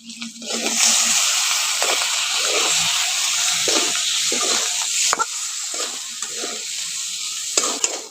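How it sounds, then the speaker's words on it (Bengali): Boiled potatoes frying with salt, green chilli paste and Kashmiri red chilli powder in a pan, a strong steady hiss of oil up close with periodic scraping strokes of a spatula. "আলুগুলোকে একটু ভালো করে কষে ভেজে নিয়েছি"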